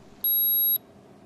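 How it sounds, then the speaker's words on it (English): A PosiTector PC powder checker base unit gives a single clean electronic beep, about half a second long, as it connects wirelessly to its probe. The tone is clear and isolated against a quiet background. "On the base unit, the probe icon will stop flashing and the unit will beep."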